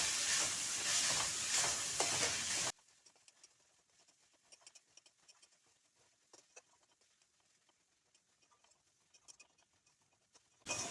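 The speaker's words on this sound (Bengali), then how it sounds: "এখন ভালোভাবে সোয়াবিনটা কষিয়ে নেব" Soybean chunks sautéed with chili, coriander and cumin powders, opening with a loud sizzling burst, then settling into quiet scattered crackles and spatula taps before the sizzle swells again at the end.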